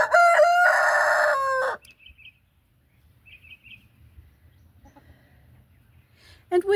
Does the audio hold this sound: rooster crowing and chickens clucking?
yes